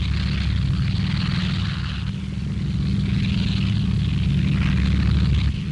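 Boston bomber aircraft of the Free French Lorraine Squadron flying overhead in wartime: a loud, steady propeller-engine drone with a deep throbbing rumble, sustained throughout without a break.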